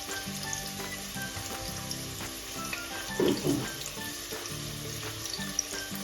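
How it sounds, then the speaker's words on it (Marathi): Onion frying in a pan with cinnamon pieces and cloves, a soft steady sizzle throughout with a brief louder scrape or stir near the middle, no voices. "आपण एकदम व्यवस्थित असं परतवून घ्यायचं ह्याला आता कांद्याला म्हणजे तांबूस रंगावर कांदा भाजून घ्यायचा"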